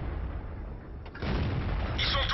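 Tank guns fire in a World of Tanks battle with an AMX 13 90 and an S-51, giving a deep boom partway through and a heavier rumble of blasts after it over continuous game noise.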